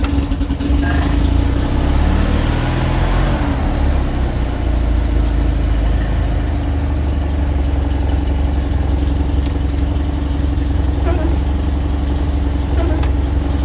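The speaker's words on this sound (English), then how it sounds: "Ignition on, choke on." A Perodua Kenari car engine sits idling with the choke on, a steady, loud mid-pitched hum that holds evenly throughout, with a brief rougher stretch early on as it settles.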